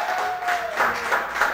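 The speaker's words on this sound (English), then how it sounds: "So let's give them one more round of applause." Club crowd applauding a live music act, a short burst of clapping and cheering with a brief whistle-like tone at the start, moderately loud.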